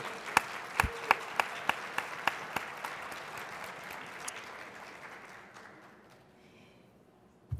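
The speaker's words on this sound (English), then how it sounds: "let's give our host mayor, Stephanie Rawlings Blake, another round of applause" Conference audience applauding a host mayor at a plenary session: a broad, steady wash of clapping with a few sharp, loud claps standing out near the start, slowly thinning and fading to near silence.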